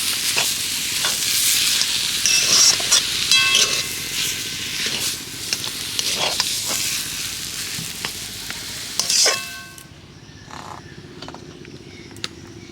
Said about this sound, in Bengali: আলুর পুর রেডি হয়ে গেছে এবার আমি সবশেষে ধনে পাতা কুচি দিয়ে দেব আর একটু নেড়ে চেড়ে এবার আমি নামিয়ে নেব